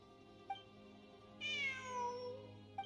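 A cat meows in a drawn-out, rising-then-falling cry heard clearly over steady background game music, with short chiming blips before and after.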